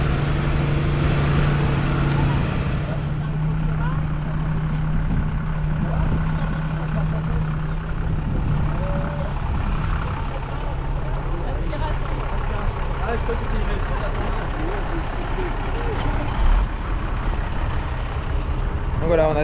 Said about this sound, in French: on a tout type de camions de pompiers d'intervention, des camions tout-terrain principalement